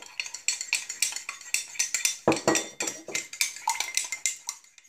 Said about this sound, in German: So, dann wird es schön verrührt.